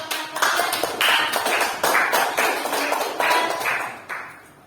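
Schoolchildren in a classroom clap together after a student's sermon practice. Loud, close hand claps come in a steady, patterned rhythm of repeated bursts with short pauses between groups.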